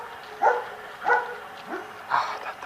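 A dog barks three times at moderate distance, sharp separated woofs with a short yip between, over a quiet outdoor background.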